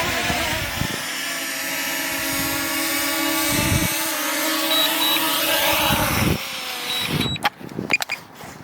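A camera drone lifts off and hovers nearby with a loud, steady propeller whine, its pitch rising as it climbs, before the buzz cuts down and handling clicks follow.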